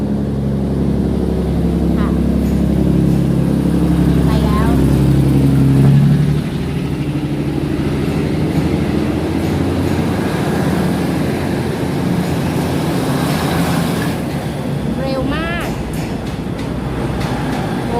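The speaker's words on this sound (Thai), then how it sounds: "เป็น รถไฟดีเซลลางค่ะ" A Thai diesel railcar, unit 1113-THN, rumbles loudly nearby at a station platform, its engine droning then easing as it pulls away, with clattering wheels and faint voices in the background.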